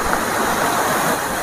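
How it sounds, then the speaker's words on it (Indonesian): A jungle river with no bridge rushes steadily, a loud, dense wash of flowing water filling the whole moment with no voices. "Kita harus nyeberangi sungai ini, kita nyari aksesnya."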